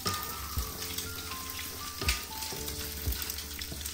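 Noodles frying in shallot oil, a faint, even sizzle with a few soft stirring knocks of a utensil in the pan.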